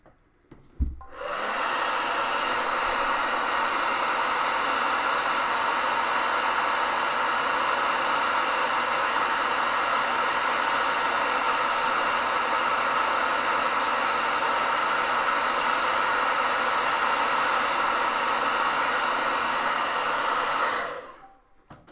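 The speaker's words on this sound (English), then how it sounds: "hitting the collage pieces with the hair dryer" A hair dryer blows on paper collage pieces continuously with a steady, loud rushing hiss from start to finish, then cuts off.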